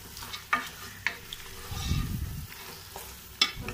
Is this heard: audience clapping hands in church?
no